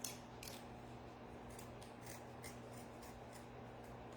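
Scissors trimming ribbon ends on a rustic fall wooden door decoration, a few quick faint snips spaced irregularly over a low steady background hum, close with no talk.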